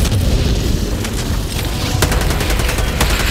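Grenade explosions in Helldivers 2, heavy booms within a dense, continuous roar of battle, with several sharp blasts near the end.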